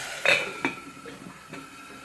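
A cooking pot is covered with its lid while smoked fish in groundnut paste cooks with carrots, tomatoes and onions, giving a clear metallic clank followed by a few softer knocks and rattles, close and moderately loud, with no talking.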